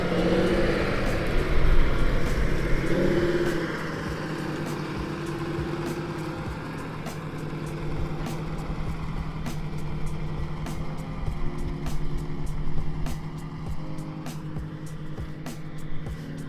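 A farm tractor on dual wheels drives across a field. Its steady, low engine drone stays fairly far off and moderately loud throughout, with a brief louder surge near the start and no talk.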